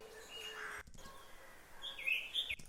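Faint outdoor ambience recording with scattered bird chirps and tweets, a few brighter calls rising near the end over a soft background hush.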